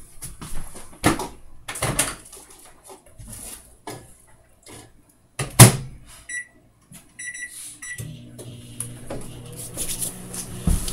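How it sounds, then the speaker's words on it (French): A microwave oven heating lip balm ingredients, with a door clunk, button beeps, then a low steady hum starting partway through, mixed with handling knocks nearby. "tu vas le mettre au four à micro-ondes pendant 1 minute"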